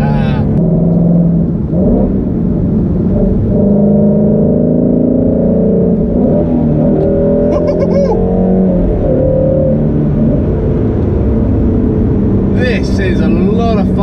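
A Shelby GT350 engine hums and revs while driving in Las Vegas, steady low rumble with rising pitch sweeps, someone talking over it much of the time.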